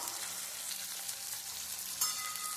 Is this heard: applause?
no